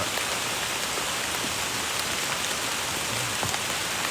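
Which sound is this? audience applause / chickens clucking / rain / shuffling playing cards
rain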